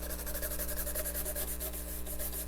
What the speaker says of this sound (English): Got the old nylon wire brush. Just loosen up any of the